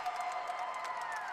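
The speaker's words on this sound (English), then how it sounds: "Kelsey Reese bringing the crowd to its feet early on." A college gymnastics meet crowd cheers and applauds after a floor routine, a faint, distant wash of clapping and shouts that holds steady without pause.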